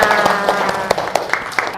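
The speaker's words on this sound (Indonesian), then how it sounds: "Ya, tepuk tangan buat anak-anak semuanya." A group of children in a classroom clap their hands in a quick, fairly regular burst of claps, with a voice speaking over them.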